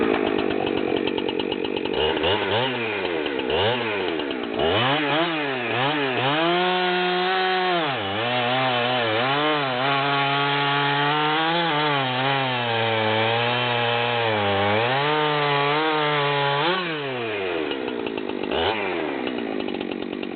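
A Husqvarna 372XP X-Torq chainsaw cuts through wood, its high-revving two-stroke whine bogging and dipping under load in a long steady cut, loud and close, with no talk.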